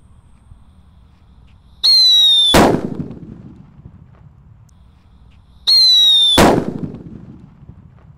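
Two firecrackers set off with a jumbo tissue roll, each a sharp rising whistle followed by a loud bang, the pair spaced a few seconds apart against quiet background.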